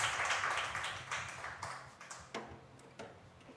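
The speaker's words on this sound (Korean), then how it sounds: "우리 하나님께 영광의 박수 올려드리겠습니다." Congregation applauding during a Korean Friday evening church worship service, a burst of hand claps that thins into scattered individual claps as it fades, heard in a reverberant room with no talking.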